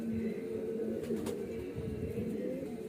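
Baby highflyer pigeons of the Sheetla breed give soft, low, sustained cooing from close by. The throaty murmur runs continuously with no talk over it.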